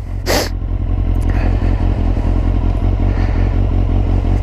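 A Kawasaki Z800 fitted with an Akrapovic exhaust runs close by with a loud, steady, throbbing engine note, a brief clatter at the start and the revs holding fairly even throughout.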